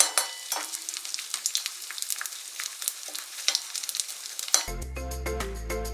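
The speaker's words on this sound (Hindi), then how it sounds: "गोंद को थोड़ा थोड़ा घी में डालिए और फ्राई करके निकालते जाइए।" Pieces of edible gum (gond) frying in ghee for dry-fruit ladoos make a bright, crackling sizzle with irregular pops for several seconds, before music cuts in at the end.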